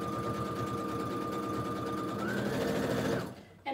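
A sewing machine stitches a sawtooth quilt block, running a steady, fast, close mechanical whir that speeds up slightly near the end before stopping abruptly.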